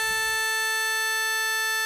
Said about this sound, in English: So now you're hearing the high register without all the harmonics from op 4.